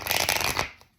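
Tarot cards are shuffled in one brisk, loud riffle close up, a dense papery flutter that fades out within a second.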